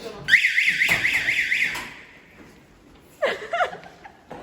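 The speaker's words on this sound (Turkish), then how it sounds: "Kapıyı açıp Alarm çalacak" A loud electronic door alarm sounds in warbling bursts for about a second and a half, then after a pause a short laugh-like burst follows.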